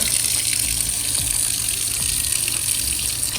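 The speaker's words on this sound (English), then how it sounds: "Let me add some hot water." Steady rush of water pouring from a tap, continuous and fairly loud with a bright hiss, no voices.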